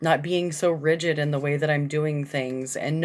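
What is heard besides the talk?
No everyday noises stand out.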